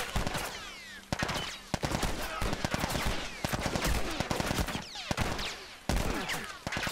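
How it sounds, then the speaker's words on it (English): Rapid gunfire in The Last of Us: a loud, close string of sharp shots and bursts, some in quick clusters, with echoing tails and a few heavier single cracks, no voices over it. "I shot him right in the head."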